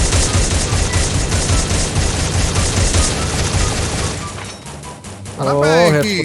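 Rapid M60 machine gun fire in the Free Fire video game zombie mode, a dense loud burst lasting several seconds, then a brief lull and a tonal game effect near the end, with voices talking over it.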